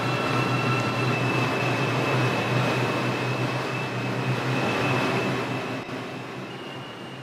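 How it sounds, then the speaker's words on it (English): A New York City R142 subway train on the 4 line rumbles steadily along the tracks with a constant high metallic whine, loud and close, with no voices. "This is a Woodlawn-bound 4 train."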